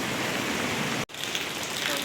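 Heavy rain pours steadily on a rainy day, a dense continuous hiss that drops out for a split second midway and then resumes just as loud.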